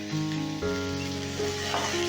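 Malabar spinach stems fry lightly in hot oil with salt and turmeric, giving a steady close sizzle throughout with a faint hum underneath.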